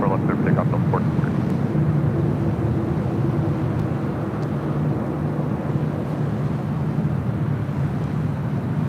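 Delta Airlines Airbus A319 taking off from runway 24 left at LAX, a steady broad jet roar rumbling at even loudness throughout, with a few faint higher tones early on and no clear voices over the engine noise.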